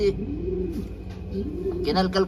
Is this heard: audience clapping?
no